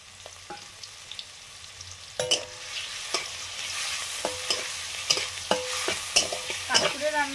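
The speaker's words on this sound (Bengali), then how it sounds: "বড়িটা ভেজে নেব" Lentil dumplings (bori) fry in mustard oil with a steady close sizzle, broken by sharp clacks and scrapes of a spatula stirring the pan; no voices.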